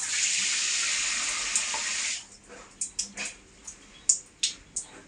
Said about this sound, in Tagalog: At syempre yung ating parang gripo.